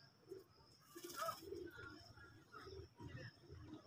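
A racing pigeon cooing softly up close, faint low throaty coos repeating under quiet background noise.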